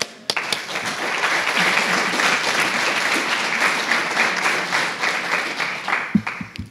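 Audience applause greets a speaker taking the stage for a 2018 capstone presentation, a dense steady clapping of a seated crowd that swells quickly, holds for several seconds, then thins out into scattered final claps.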